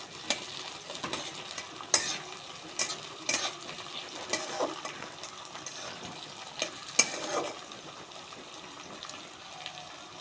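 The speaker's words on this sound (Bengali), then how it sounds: "তারপর তেলটা আসার পর এই পেঁয়াজগুলো দিয়ে ভাজছি।" Onions and a whole tomato frying in hot oil with chilli and a pinch of sugar, a steady sizzle broken by repeated sharp scrapes and clinks of a spatula stirring the pan, moderately near and with no talking.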